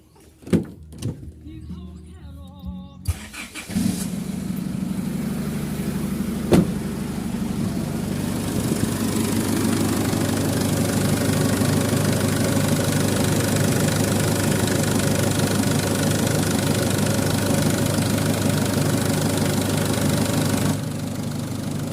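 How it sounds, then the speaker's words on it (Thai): A pickup truck diesel engine, an Isuzu D-Max, starts after a few knocks and clicks, then idles steadily with a low, rough rumble that continues unbroken to the end. "อ่ะเดี๋ยวจะไปลองติดเครื่องดู"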